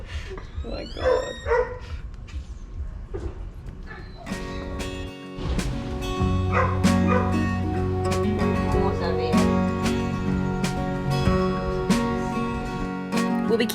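Newborn puppies with their mother give several high, thin yips and whimpers for the first few seconds at close range, before steady music takes over.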